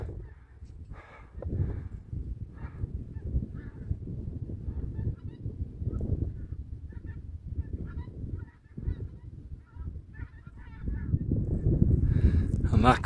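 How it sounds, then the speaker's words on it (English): Geese honking repeatedly in blustery wind over the high fells near Wasdale in the Lake District, calls moderately distant and intermittent over steady wind rumble. "We got some geese up there battling the wind."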